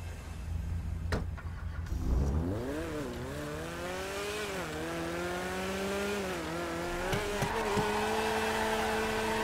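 A Pagani supercar in GTA 5 revs hard and accelerates through a racing lap, its engine note climbing and shifting through gears in a loud, sustained whine with brief dips, close and uninterrupted.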